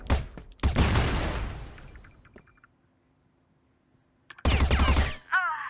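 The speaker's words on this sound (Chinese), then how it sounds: "地波点一个，打一枪" Rapid gunfire from the CrossFire online shooter, likely an M4A1 rifle, comes in two loud bursts: a long crackling volley that fades out, then a pause and a shorter sharp burst near the end.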